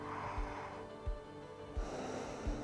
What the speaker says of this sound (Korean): 마시고 내쉬고 마지막 숨 크게 마셨다가요.